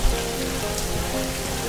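Steady rain falling on a hiking trail near Dera Janglan, Islamabad, a dense continuous patter of drops on the ground and foliage, close and even throughout, with no voices.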